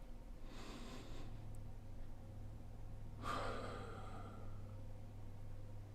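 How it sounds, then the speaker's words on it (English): Two audible breaths over a steady low hum, with a softer inhale near the start and a sharper, gasping deep inhale around the middle, followed by quiet. "by breathing in"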